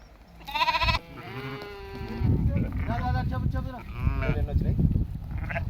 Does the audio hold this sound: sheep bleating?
yes